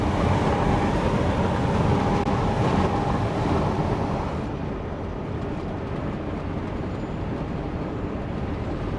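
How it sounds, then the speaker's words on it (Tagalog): Strong wind roars across the microphone in a dense, continuous rush, buffeting loudly, easing slightly partway through. "Lakas ng hangin eh."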